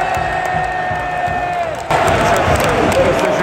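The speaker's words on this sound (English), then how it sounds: "So why is everyone cheering?" A large football stadium crowd roars continuously at Selhurst Park as Arsenal are given a penalty against Crystal Palace, and the noise swells abruptly into louder, denser cheering partway through.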